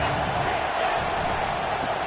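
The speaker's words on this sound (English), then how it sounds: "this crowd is tearing the lid off this place" A packed stadium crowd at a football game roars in a dense, continuous wash of noise with no breaks, loud and unbroken throughout.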